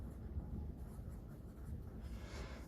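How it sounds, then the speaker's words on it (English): Pen or pencil scratches faintly on paper as a word is written by hand, a soft continuous scribble with brief strokes, close by and quiet. "I'm going to write isosceles"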